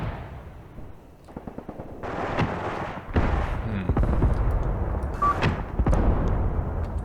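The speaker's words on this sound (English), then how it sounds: "Enemy tank fired at something." An enemy T-34 tank fires in a Graviteam Tactics Mius battle, with several sharp booms and crackling gunshots echoing at a distance over low rumbling ambience.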